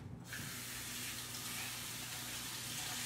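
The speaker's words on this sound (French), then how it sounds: "Je vais juste le rincer un peu." Water runs steadily from a kitchen tap while a dish is rinsed beneath it, a continuous close hiss and splash that starts quickly and carries on alone with no voices.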